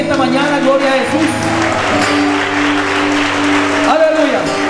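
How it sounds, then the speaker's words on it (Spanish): A church congregation applauds during a morning fasting and prayer service, clapping spread through the room beneath sustained music and a voice speaking over it. "Denle un aplauso al Rey en esta mañana"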